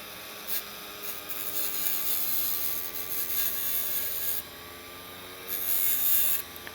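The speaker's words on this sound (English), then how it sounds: "So now we have something that we can work with on our grinder." Metal being ground on a bench grinder as a snapped hacksaw blade is shaped into a lockpick, a steady close abrasive whine that runs throughout with a brief pause partway through.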